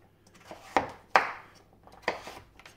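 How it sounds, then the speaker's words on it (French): Knife chopping a firm butternut squash into cubes on a board, three or four sharp, distinct cuts spaced irregularly, fairly close and quiet. "on va finir de couper ça"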